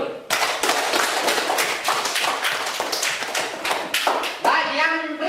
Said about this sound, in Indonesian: Tepuk tangan untuk Charles dulu